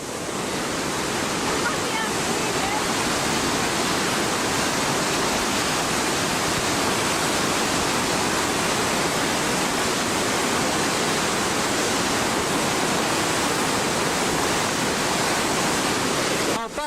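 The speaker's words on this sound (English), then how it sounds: "This is where the water comes out." Loud, steady roar of water rushing out of a power station outlet in a powerful torrent, close by and continuous without a break.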